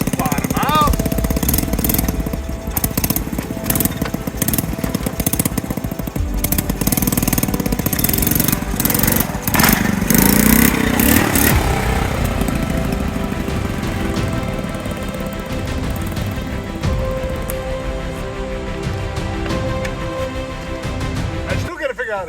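A Honda C70 motorcycle being ridden, its small engine running steadily and loudly close by with a rough, buzzing drone throughout.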